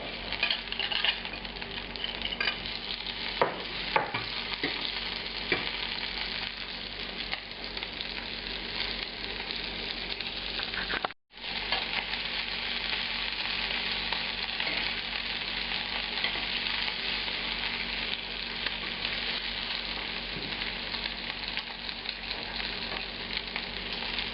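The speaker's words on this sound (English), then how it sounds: "And here I'm showing you how I'm cooking the shrimp." Shrimp cook in a pan for a French-style shrimp, mushroom, wine and cream sauce dish, sizzling and frying steadily and close up, with a few faint stirring and utensil clicks and one brief dropout midway.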